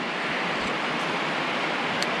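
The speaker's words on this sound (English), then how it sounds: "Sorry for the rain, by the way. It's coming down pretty good out there." A dense, steady hiss of heavy rain pours without pause, broad and even, with a few faint higher ticks above the wash.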